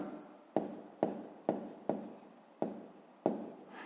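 A pen writes a math answer on paper in a run of about seven sharp, regular strokes and taps, each followed by a brief scratch, close and quiet.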